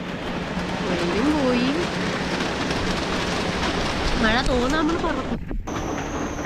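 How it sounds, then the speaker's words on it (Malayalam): Steady, dense rain hisses throughout, with a voice talking over it and a brief dip near the end. "മഴ തോരുന്ന ലക്ഷണമില്ല, നല്ല മഴക്കോളുണ്ട്"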